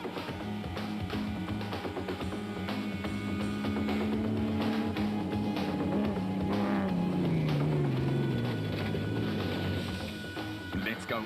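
A Land Rover rally car, driven by the Zermattens in Class D of the 2007 Rustenburg 200 near Lichtenburg, roars steadily from inside the cabin over a rough, tough route, engine pitch rising and falling continuously under heavy rattling.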